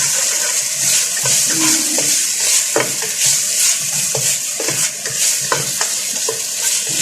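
Chicken coated in cornstarch, sugar and soy sauce is sautéed in a pan, giving a loud, wet sizzle with repeated clicks and scrapes of stirring, close and continuous.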